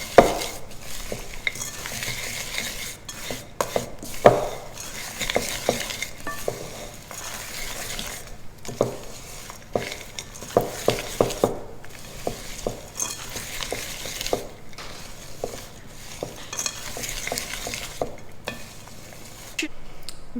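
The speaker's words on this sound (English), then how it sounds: "Give it a good mix. You want everything to be coated in the oil and honey mixture." A spoon stirring and scraping through toasted muesli ingredients coated in oil and honey in a bowl, a steady clattering rustle with frequent sharp clinks against the side, close and continuous without talk.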